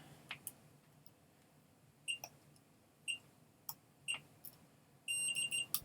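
A soldering iron gives short, high electronic beeps as it enters sleep mode: single beeps spaced about a second apart, then a quick run of several beeps at the end, clear against a quiet room.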